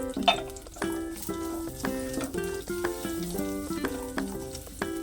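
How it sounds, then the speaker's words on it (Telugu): Fresh coconut pieces frying in ghee, sizzling and crackling steadily up close, with occasional stirring knocks and scrapes and no voices. "దాంట్లో రెండు స్పూన్లు నెయ్యి పోసుకుని దీంట్లోనే ఒక కప్పు పచ్చి కొబ్బరి ముక్కలు వేసుకొని వేసుకోవాలి"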